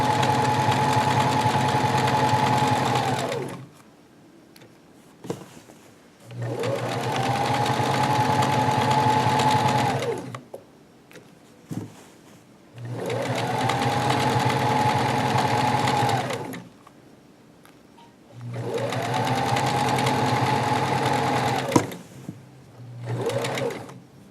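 A sewing machine stitches pajama pants in four long, steady whirring runs of a few seconds each, separated by short pauses with faint clicks, loud and close.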